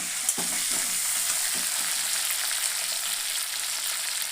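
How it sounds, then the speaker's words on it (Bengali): Phasa fish frying in a pan with a dense, steady sizzle and hiss throughout, broken by a few soft clicks near the start. "মাছটা সেখানে ভালো করে ভাজতে হয়"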